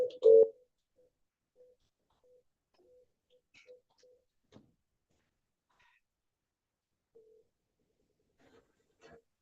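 A telephone number being dialed: faint, sparse electronic beeps and small clicks spaced irregularly over near silence, one louder tone at the start.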